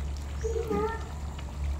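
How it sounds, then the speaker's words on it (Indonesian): A domestic cat lounging under a chair in a home kitchen while meat simmers on the stove gives a single short meow midway, over a steady low background hum. "Ini si kucing aku lagi santai teman-teman, karena nggak ada kerjaannya, jadi dia santai aja di bawah kursi."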